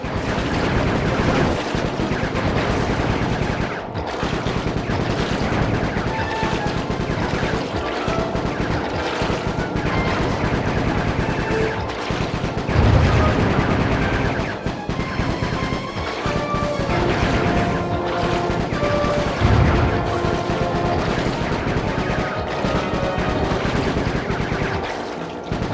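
Dense, loud video-game combat from Sly Cooper 3: Honor Among Thieves, with repeated gunshots, crashes and booms layered over a continuous busy soundtrack for the whole stretch, and occasional heavier impacts standing out.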